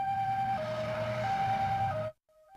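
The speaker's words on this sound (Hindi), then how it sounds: "एम्बुलेंस की आवाज।" A cartoon ambulance siren wails in a steady two-tone pattern, loud and alone, then cuts off sharply, leaving only a faint trace of the tone.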